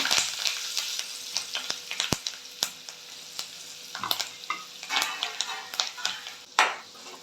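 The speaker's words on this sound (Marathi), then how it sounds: "फोडणी छान ढवळून घ्यायची" Spices (bay leaves, chilli pieces, curry leaves) sizzle and crackle in hot oil for a tempering, with frequent spoon scrapes and clicks against the pan, close up and without talking.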